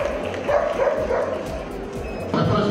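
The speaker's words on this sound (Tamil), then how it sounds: "100க்கும் மேற்பட்ட நாய்கள் கண்காட்சிக்கு நாய் வளர்ப்போர் கொண்டு வந்தனர்" Dogs at a show with more than a hundred animals, including German Shepherds, Rottweilers and Pit Bulls, bark and yip in short bursts over a busy crowd with people talking.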